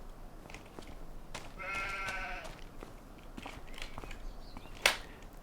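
Sheep bleat in Farming Simulator 25, one harmonic bleat standing out midway through a steady farm-game ambience with a few soft knocks and a brief sharp click near the end; no talking.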